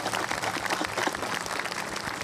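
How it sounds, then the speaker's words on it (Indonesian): Applause from a studio audience on a televised talk show, a steady wash of many hands clapping together for about two seconds, moderately loud with no talking over it. "boleh kasih tepuk tangan dong untuk Pak Kasiman."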